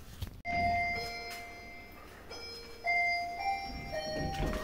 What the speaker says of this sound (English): Who rang the doorbell? Was that you?